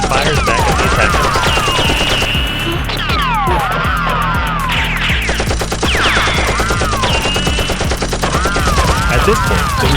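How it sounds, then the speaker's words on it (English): A Nerf gun fight fills the scene with loud, rapid bursts of gunfire-like rattling, layered over dense, sweeping, whistling tones and a constant driving backdrop. "Xicman, seeing his men under attack, grabs a weapon and fires back at the attackers"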